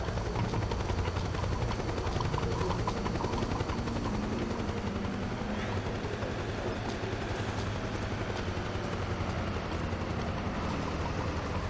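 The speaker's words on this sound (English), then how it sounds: "fucking helicopters, I swear" A helicopter from the video game Metal Gear Solid 4 drones steadily with a dense rotor chop, holding a constant loud level throughout and no talk over it.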